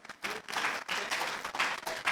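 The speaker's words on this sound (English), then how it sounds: "please give our speakers the biggest round of applause." A conference audience at a technology summit in 2019 applauds the speakers, with dense clapping in bursts that swell and briefly dip over two seconds.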